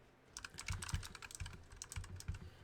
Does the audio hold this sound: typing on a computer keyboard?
yes